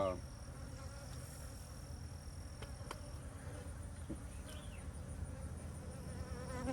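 Honeybees hum in a continuous, dense drone around a yard of about thirty beehives, with occasional individual insects buzzing closer past; no talking is heard.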